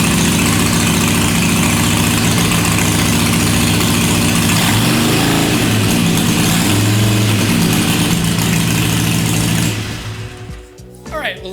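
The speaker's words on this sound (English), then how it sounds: "The first step is to run your bike for a few minutes so it's warmed up, so the oil moves through the engine." A Harley-Davidson Iron 883 motorcycle engine idles loud and close in a garage, a steady rumbling throb with harmonic drone, before cutting off near the end.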